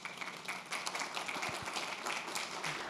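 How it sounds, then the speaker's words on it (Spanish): Applause from a symposium audience welcoming a speaker, soft and somewhat distant, a sustained patter of many hands with a few sharper claps scattered through. "pido un gran aplauso"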